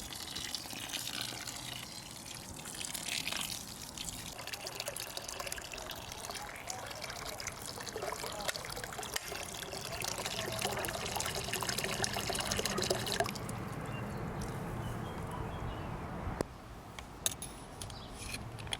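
Water pours and trickles continuously into a container for a chicken manure fertilizer mix for tomatoes, a steady close splashing that shifts in tone partway through, with faint speech in places.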